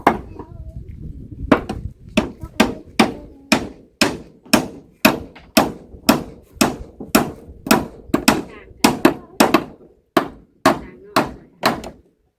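Steady, evenly spaced hammer blows ring out one after another while a house's front floor is built, about two per second, loud and close, with a faint voice early on.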